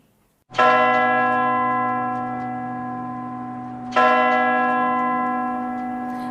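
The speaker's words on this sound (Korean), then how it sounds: "교회 종소리가 울리며 사람들이 몰려왔어요." Two deep church bell strikes, the second following a few seconds after the first, each ringing out loud and slowly fading with a long resonant hum.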